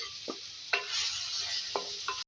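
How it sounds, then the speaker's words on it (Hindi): Keema with ginger and garlic being stirred and fried in a karahi: a steady sizzle runs throughout, broken by three or four short scraping strokes of the spoon, close and clear, with no talking. "इसको मिक्स करेंगे, इस तरीके से इसको फ्राई करेंगे।"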